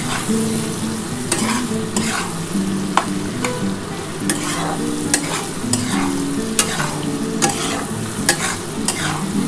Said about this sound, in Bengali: ভালো করে ভাজা ভাজা হয়ে গেলে আমি কিন্তু জিরে আদা যেটা বেটে রেখেছি মশলাটা দিয়ে দেবো